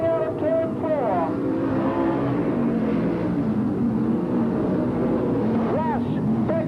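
Sprintcar engines roar and wail on a speedway during an 1980s race, with the revs rising and falling around the turns under continuous race commentary.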